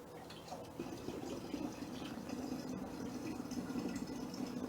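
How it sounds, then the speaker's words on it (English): Apple juice, darkened with brown sugar, pours into a gallon glass carboy, a quiet continuous gurgling splash heard close up with no talk over it. "now we're just going to pour the rest of this in here."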